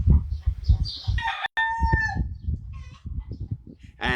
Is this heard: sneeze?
no